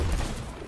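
A ranged weapon fires in the pirate video game Sea of Thieves, a short burst of loud, dense gunfire with no voices over it.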